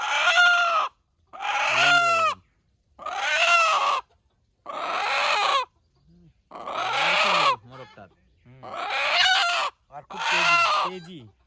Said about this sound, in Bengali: বিরাট তেজি দেশি মোরগ